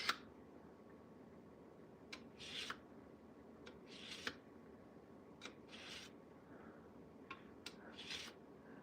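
Knife drawn through a cheap pull-through knife sharpener, giving short scraping rasps at irregular intervals of about a second or more, faint and close, with no talking.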